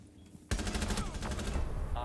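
Rapid automatic gunfire in the tactical shooter Rainbow Six erupts suddenly after a quiet lead-in, a loud close burst of tightly spaced shots rattling on steadily to the end.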